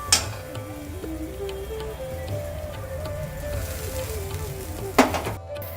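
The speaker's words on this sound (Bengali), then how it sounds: "মশলা থেকে তেল বেরিয়ে এসছে এরপর এর মধ্যে ভেজে রাখা আলু দিয়ে দেবো" Spice masala and fried potatoes sizzle in hot oil in a pan for a Bengali dish. The frying hiss is steady and close, with a sharp clatter near the end and a low background hum. No one speaks.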